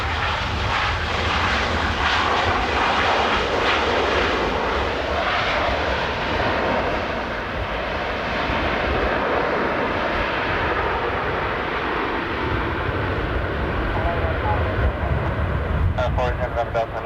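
Airliner arriving at Dublin Airport in a gusty crosswind, its loud, steady engine roar filling the air throughout, with a brief rattle near the end.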